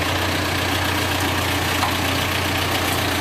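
The diesel engine of a John Deere 310SK backhoe loader idles steadily at a dock during unloading from a trailer, a loud, constant low rumble with no change over the whole stretch and no speech.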